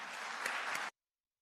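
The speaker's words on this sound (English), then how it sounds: "So let's give them another round of applause." A crowd at a Martin Luther King Jr. memorial breakfast claps in dense, steady applause for under a second before it cuts off abruptly into silence.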